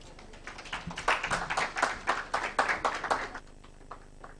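A closing-ceremony audience at a climate justice summer school claps in a steady rhythmic burst for about three seconds, moderately near, then trails off into a few faint sounds.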